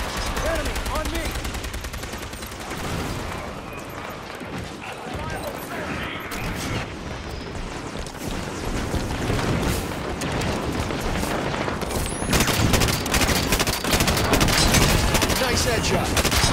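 Dense, continuous gunfire from Halo 5: Guardians, rapid automatic bursts and booms layered together at close range, growing louder toward the end while a voice talks over the combat.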